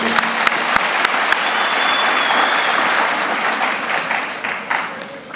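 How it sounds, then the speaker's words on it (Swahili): A large crowd applauds the president at a public political speech in Tanzania. The clapping is loud and sustained and eases slightly toward the end. "Tumpigie makofi rais"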